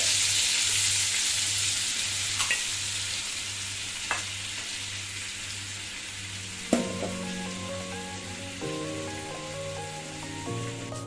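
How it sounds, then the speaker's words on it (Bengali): A spoonful of butter sizzles in hot oil in a pan, a steady, fairly quiet frying hiss with a low hum underneath, a few small clicks and a clatter, and faint tonal sounds in the background. "এই তেলের মধ্যেই আমি 1 চামচের মতো বাটার দিয়ে দিচ্ছি।"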